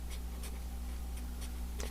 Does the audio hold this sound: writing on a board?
yes